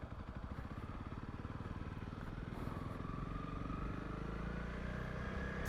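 A Honda CRF 300 Rally motorcycle rides down a farm road between Elands Bay and Leipoldtville in South Africa, its engine pulsing in a close, steady, rhythmic chug under rushing wind.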